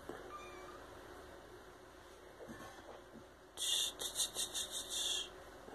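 A 45-day-old adopted kitten meows: a quiet indoor room with faint background noise, then a close, high-pitched series of short meows in quick succession near the end.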